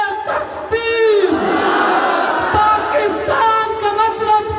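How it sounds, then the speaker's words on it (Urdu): A large crowd at a religious conference in a madrasa chants the Takbir slogan in unison, loud rising shouts repeated in waves with a lead voice calling out between them. "نعرے لگیں گے تو اللہ کی بڑائی کے لگیں گے, ختم نبوت کے نعرے لگیں گے"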